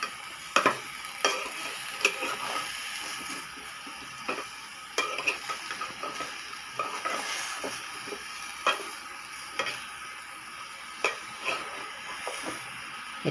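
A spiced curry with chili and salt being stir-fried in a pan, a low steady sizzle under repeated sharp ladle taps and scrapes at an irregular pace, close and without talk.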